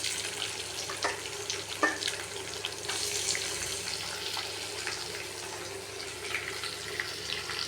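Chopped onions deep-frying in a pan for evening snacks, a soft continuous sizzle with scattered crackles and occasional stirring scrapes, fairly quiet and close, with no talking.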